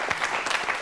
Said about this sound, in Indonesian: tepuk tangan, Pak